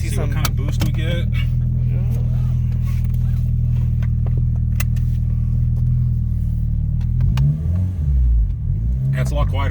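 A Honda EM2 with a newly replaced gasket hums along on a test drive, a steady low engine and road rumble heard from inside the cabin, while people talk over it toward the end.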